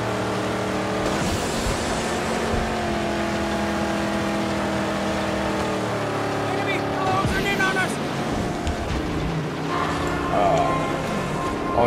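Loud car engine roaring and revving in the Mad Max video game, a steady dense drone with shifting pitch as the vehicle accelerates and drifts, filling the whole stretch with no pauses.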